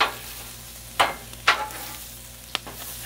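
Bacon and potatoes sizzle softly in a pan, broken by a few sharp, loud popcorn-like pops and crackles at irregular intervals.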